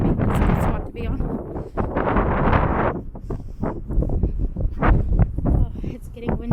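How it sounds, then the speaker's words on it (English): Wind at the beach on a sunny but windy day, gusting in loud rumbling bursts against the microphone throughout, with brief rustling in between. "Oh, it's getting windy."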